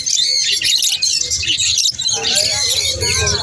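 Lutino and green cage birds chirp and tweet nonstop at a busy Srirampur market stall, overlapping bright calls close by with people talking in the background.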